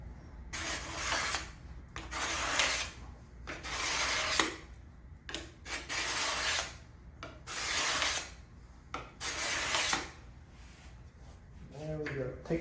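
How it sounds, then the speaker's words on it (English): A card scraper smooths the rough wood of a handmade try square with repeated rasping strokes, each lasting roughly a second, close and fairly loud, while a person speaks intermittently. "you can actually come in here with a card scraper"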